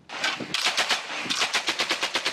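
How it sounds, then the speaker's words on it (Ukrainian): Bursts of automatic gunfire at a front line near a town, several rapid strings of shots, loud and close, alone with no talk. "Стріляють у день так, що труситься весь прифронтовий Павлопіль"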